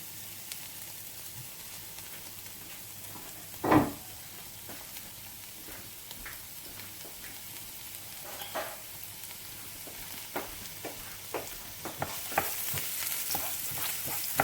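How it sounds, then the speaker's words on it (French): Shallot sautéing in olive oil in an already warm frying pan, a soft continuous sizzle with one sharp knock early on and scattered stirring scrapes that grow slightly louder toward the end. "Donc je la fais revenir."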